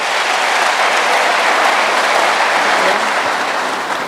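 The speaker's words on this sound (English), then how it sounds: "I think those trophies deserve a bigger round of applause." Audience at a football association trophy presentation giving a dense, loud round of applause, steady hand-clapping from a large crowd filling the moment without any speech.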